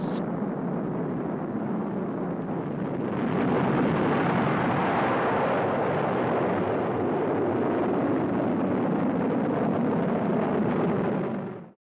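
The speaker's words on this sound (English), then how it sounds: "launched an actual missile with a small propellant charge from a launch tube" A Polaris test missile launched by a small propellant charge from a launch tube 200 feet underwater off an island near San Diego, heard as a sustained loud roaring rush that swells after a few seconds and cuts off abruptly near the end.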